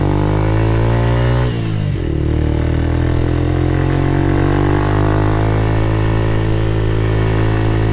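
A Yamaha YS125 motorcycle, a small 125 carrying a heavy rider, accelerates up a very steep hill in third gear, its engine note loud and close with a rising drone, a brief dip near two seconds, then steady climbing revs throughout.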